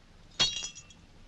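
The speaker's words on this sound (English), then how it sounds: "Does it break because it is faulty or because it is glass?" A drinking glass in an old film breaks with a single sharp shattering crash followed by a few quick tinkling fragments, then quiet.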